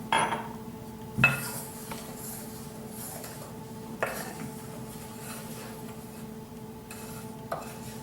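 A spoon clinks and scrapes around a bowl as dough is mixed with milk, with a few sharper knocks against the rim over steady quiet stirring.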